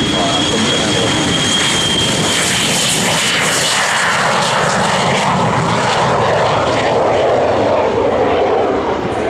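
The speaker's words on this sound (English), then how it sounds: "Vampire, both a fighter and a jet trainer in the Royal Australian Aircraft." A de Havilland Vampire jet aircraft engine roars loud and steady at an airshow, a broad continuous rushing whine that holds throughout without letting up.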